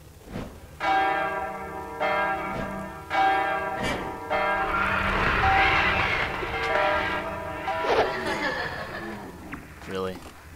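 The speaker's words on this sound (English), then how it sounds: "There's a bell above us," A large bell tolls in Silent Hill Downpour at St. Maria's Monastery, several loud resonant strikes with long humming decays, spaced about a second apart and overlapping, with a voice speaking through part of it.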